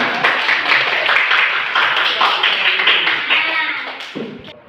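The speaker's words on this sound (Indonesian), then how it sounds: "Tepuk tangan teman-teman." A classroom of students applauds after a group presentation, dense close clapping from many hands that holds steady for several seconds, then trails off with a few voices at the end.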